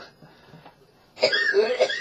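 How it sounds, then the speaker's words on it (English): A man coughing in the morning, a short rough burst of coughing that follows a stretch of faint breathing, close to the microphone. "He wakes up, he starts every morning with a cough."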